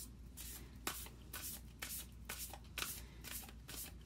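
A deck of Moonology oracle cards is shuffled in a steady run of soft riffling swishes, close up and quiet, with no voices.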